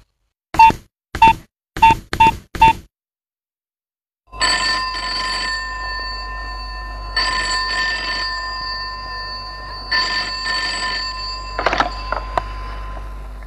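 A telephone ringing in a Santali stage show, five short sharp rings at first, then a long sustained electronic ringing tone in repeated bursts over a steady background hum.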